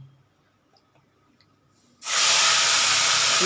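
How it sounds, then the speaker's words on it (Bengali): A quiet room gives way to a sudden loud burst of hissing, sputtering sizzle as small mourala fish hit hot oil, holding steady and strong to the end. "মাছগুলো আমি আস্তে আস্তে ছেড়ে দিচ্ছি"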